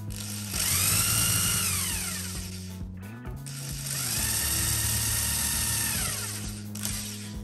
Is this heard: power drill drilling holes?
yes